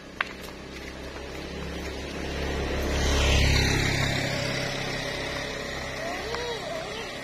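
A motorcycle passes behind a group of friends on a walk, its engine drone swelling as it nears and then fading away over several seconds, with an earlier tap and faint background noise.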